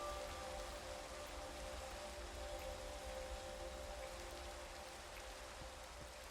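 Minecraft rain falls as a faint, steady hiss of drops on surfaces, continuous and even with no other sounds.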